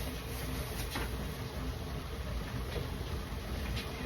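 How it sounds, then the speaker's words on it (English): A household dishwasher runs in a kitchen as a steady, fairly quiet broadband hum and wash, with faint repeated spray swishes over the constant background. "I've got my dishwasher running."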